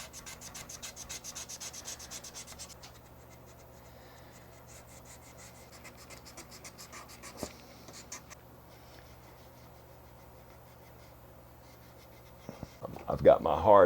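A hard 3M sanding block rubs across the maple top of a custom guitar body. Fast rhythmic scraping strokes open the passage, then fade to quiet, and a louder close rasp returns at the end.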